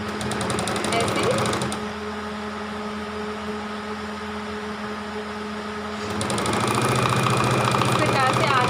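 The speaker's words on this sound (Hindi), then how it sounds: "इस प्रकार से आर्महोल वाले हिस्से पे आप स्टिचिंग कर देंगे" A sewing machine stitching the armhole of a two-year-old's baby frock runs in a steady, close, whirring buzz at the start and again near the end, with a quieter stretch in between.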